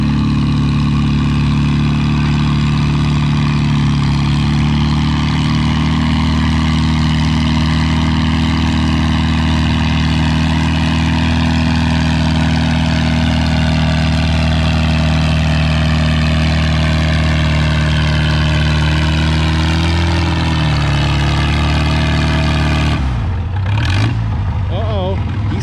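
Farmall 350 tractor at a vintage tractor pull, its engine droning loud and steady for over twenty seconds before a brief rough burst near the end; no talking.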